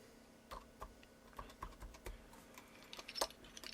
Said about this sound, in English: Let's just put some keycaps on and see what it looks like.